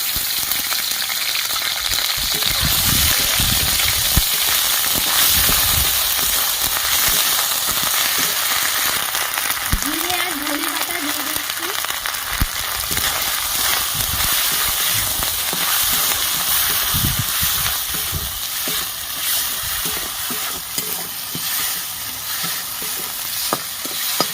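Tomato, green chillies and ginger paste sizzle and crackle steadily in a hot pan, with a stirring spoon scraping through at intervals, loud and close with no voices.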